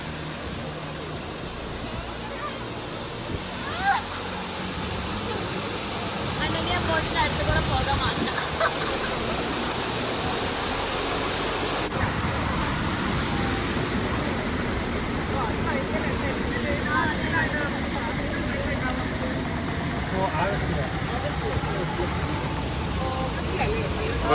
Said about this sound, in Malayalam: ഇതുപോലെ ഒരുപാട് വെള്ളച്ചാട്ടങ്ങൾ നിറഞ്ഞ ഒരു പ്രത്യേകതരം സ്ഥലമാണ്